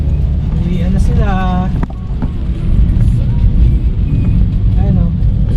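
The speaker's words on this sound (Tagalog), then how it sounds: "Ayun, ang dami ng mga motor." Motor vehicles rumble past on a road near a campsite, a dense steady engine and wind roar with a passing whine, while someone talks over it.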